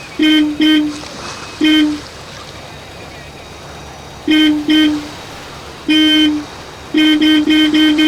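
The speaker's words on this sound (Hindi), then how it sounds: "हॉर्न सुनकर भी कोई रिएक्शन नहीं है सर" A car horn honks in short bursts, single beeps and quick pairs, then a rapid series of toots, loud against quiet outdoor background.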